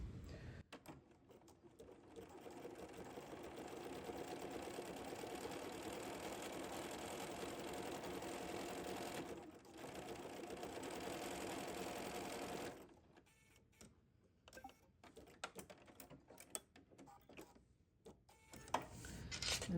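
An overlock machine stitches a knit seam in a steady, even whir for about thirteen seconds, then stops, leaving a few faint clicks and handling sounds.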